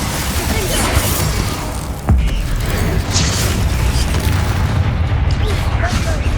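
A fire spell is cast in Hogwarts Legacy, a loud booming blast with mechanical crackle and rumble that peaks sharply around the middle and sustains, with a voice speaking over it.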